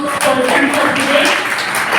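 An audience breaks into continuous applause after a training session, a dense patter of many hands clapping at once throughout the short stretch.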